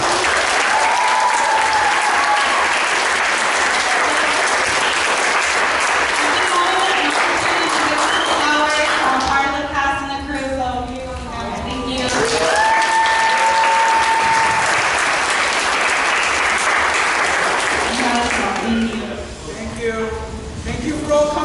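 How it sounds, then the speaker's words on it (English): A theatre audience bursts into loud, sustained applause for a play's director, clapping filling the room with a few cheers and voices rising through it. Near the end it briefly softens, then swells again. "Can we give him another round of applause?"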